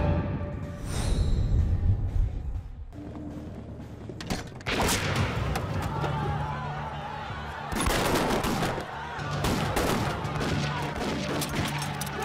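Bursts of gunfire and rapid automatic shots crackle through a wartime resistance action film, with loud booms and shifting battle noise layered over a dense soundtrack for the whole stretch.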